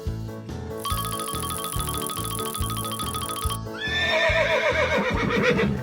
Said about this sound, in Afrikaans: 'n perd.